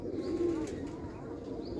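A pair of pigeons coos softly, a low, rolling murmur heard close but fairly faint over a quiet background, with no one talking.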